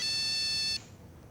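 A loud electronic telephone ringtone trills for under a second, then cuts off abruptly into quiet room tone.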